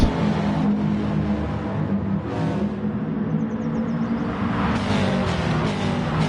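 Race car engines roaring in GT Sport as one car pulls alongside another to overtake in an online race, a loud, sustained drone with shifting revs and no voices.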